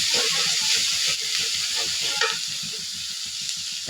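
Onion paste with turmeric and ground coriander frying and being stirred in a pan, a steady loud sizzle with bursts of hiss and scraping stir strokes throughout.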